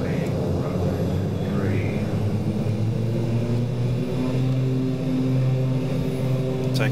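A Super King Air B200 turboprop takes off in a flight simulator. Its engines drone steadily and loudly with a constant tonal hum, and brief voices are heard over the engine noise.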